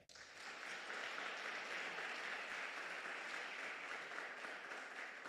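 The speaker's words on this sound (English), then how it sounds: "You need to give yourselves a big hand clap" A youth weekend audience in the Northern Cape applauds steadily as a dense, sustained wash of many clapping hands that rises quickly and holds near-even for several seconds, with no talking.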